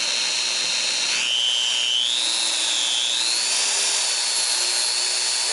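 A Compact 3 rotary polishing tool spins at a raised speed, giving a steady, loud high-pitched whine that climbs in pitch partway through and holds there, alone with no talk.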